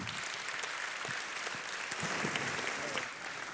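An audience at an evening mentoring gathering applauds Thibaut Guilhuy, director general of France Travail. The clapping is even and continuous from start to finish, with no voices standing out above it.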